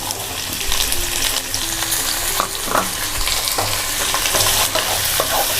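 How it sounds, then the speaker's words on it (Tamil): Onions, a green chili and tomatoes sautéing in a hot pan for a paneer matar masala gravy, a steady close sizzle and frying crackle with occasional stirring scrapes, no talk. "இதை நல்லா வதக்கிக்கணும்."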